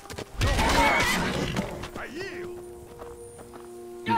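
A horse in Skyrim, the fantasy video game, lets out a loud, close whinny during a fight, followed by hoofbeats, with someone talking over the game sounds.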